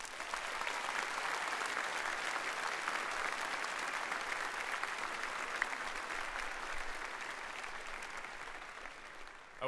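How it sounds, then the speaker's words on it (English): A graduation crowd applauds the board of education trustees in a long, steady roar of clapping that holds evenly for nearly ten seconds, slightly distant and untouched by speech, tapering only at the very end. "Please give them applause for their role."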